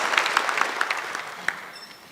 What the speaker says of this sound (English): Another round of applause for the Honourable Vice President, ladies and gentlemen.